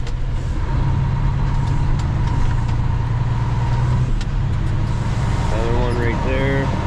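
An International truck hauling logs, its engine droning steadily as it drives and turns, loud and close, with someone talking over the engine noise throughout.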